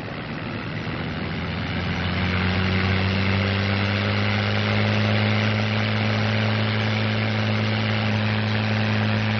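North American P-51 Mustang piston engine roaring on takeoff at full power, a loud sustained drone whose pitch rises and steadies as the engine builds power, propeller set for maximum RPM.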